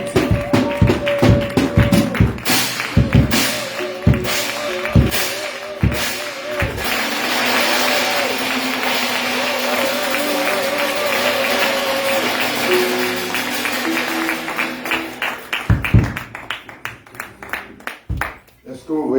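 A church congregation bursts into sustained applause, with loud scattered claps and taps at the start and the end and a dense continuous crowd sound through the middle, while voices and music rise underneath.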